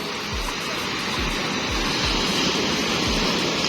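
Continuous rushing water with sloshing waves around a small motorized boat on open water, steady and close, with soft low thumps recurring every half second or so and no voices.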